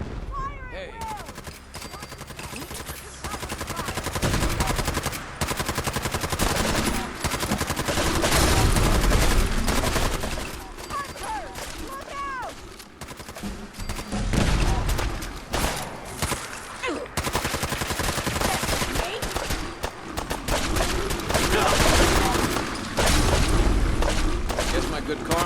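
Dense battle gunfire from Fallout 4's Far Harbor, with rapid volleys, booms and sharp shots crowding nearly half a minute, loud and continuous, while shouted voices cut through the chaos.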